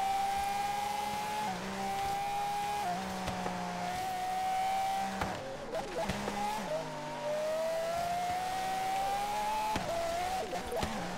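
Loud car engine from the Forza Horizon 3 racing video game, a steady high engine tone with gear shifts and revving changes running throughout, close and continuous.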